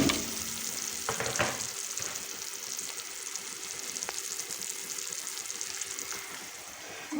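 Rice is stirred into peas cooking for matar pulao, giving a continuous soft sizzle with a few scraping knocks of the spoon early on. The hiss stays steady and fairly quiet throughout, with no talk.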